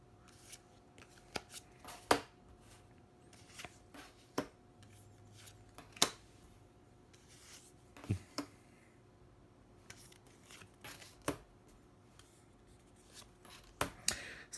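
Oracle cards being drawn and laid out on a table, a series of soft slides, flicks and sharp taps spaced irregularly, close and quiet with no talking.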